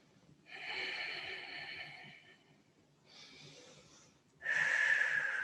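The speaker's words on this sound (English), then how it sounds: "We'll take a few breaths like this." Deep yoga breaths come in three slow, hissing rounds of air, each lasting a second or two with pauses between, the last one the loudest and closest.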